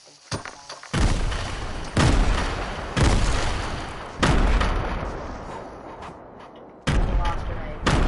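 Grenade explosions in the Fortnite video game, five loud broadband blasts roughly a second apart and then spaced wider, each with a long fading rumble.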